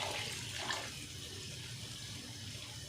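Water poured into a cooking pot for chana pulao, a soft watery rush and trickle at the start that fades to a faint hiss, quiet with no talking.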